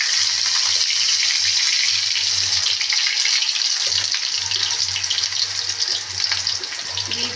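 Onions frying in hot oil make a loud, steady sizzling hiss that runs unbroken throughout, close and with no voices over it.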